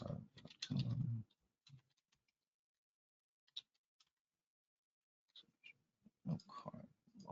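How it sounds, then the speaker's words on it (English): Keys tapped on a computer keyboard while a username and password are entered, clustered bursts of clicking with a quiet pause in the middle, close and fairly soft. "I'm going to try to type in the right username and password combo this time."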